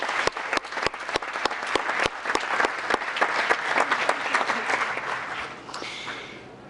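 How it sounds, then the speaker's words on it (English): Audience applause for the Scouts at a town council meeting, a steady round of many hands clapping in a hall for several seconds before tapering off, with no talking over it. "if we could have the audience give a nice round of applause for our Scouts"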